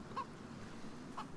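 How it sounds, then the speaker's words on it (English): A chicken in the DayZ video game gives two short, faint clucks about a second apart, distant over a low steady background. "I hear a chicken"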